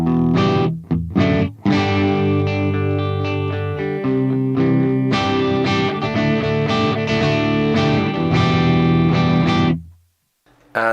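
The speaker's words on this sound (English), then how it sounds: "So this is the pristine clean that you can get out of the Silver." A pristine clean electric guitar tone through a Fractal Audio Mars Silver amp model, with ringing chords and strums played loud and alone, then a sudden stop near the end.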